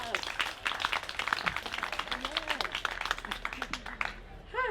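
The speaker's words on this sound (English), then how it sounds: "Can we give a huge round of applause for Co?" Audience applause at an outdoor festival stage show, steady moderate clapping with scattered whoops and voices mixed in, heard from within the crowd throughout.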